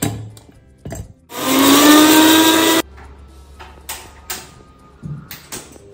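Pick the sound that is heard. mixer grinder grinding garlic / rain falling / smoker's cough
mixer grinder grinding garlic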